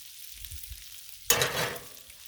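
Bacon strips fry on a Blackstone flat-top griddle: after a quiet moment, a sudden bright hiss of sizzling fat flares up close and keeps crackling steadily.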